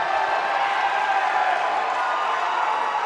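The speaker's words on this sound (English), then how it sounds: "You can hear the crowd here at the NZCIS." Crowd at a World Wheelchair Rugby qualifying match applauding and cheering, a steady dense wash of clapping filling the arena without a break.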